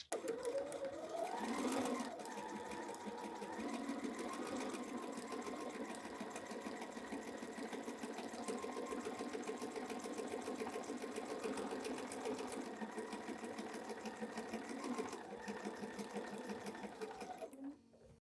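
A sewing machine runs steadily and evenly, stitching a quarter-inch seam down a pinned fabric placemat, a continuous close whirring hum that stops at the end.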